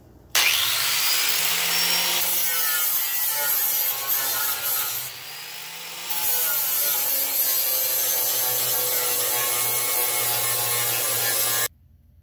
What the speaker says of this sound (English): We're gonna grind this down.